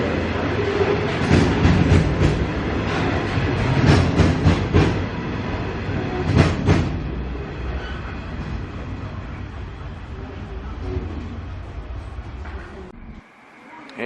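A long coal train of heavy loaded wagons rolls past on the rails at Muswellbrook, a loud continuous rumble with rhythmic clicks from the wheels that fades slightly and cuts off at the end.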